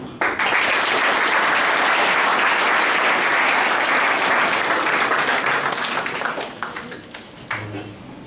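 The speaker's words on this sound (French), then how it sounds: "je vais vous demander d'applaudir pour vous" Loud, sustained clapping from a large audience at an evening platform launch event, holding steady for several seconds before tapering off into scattered claps.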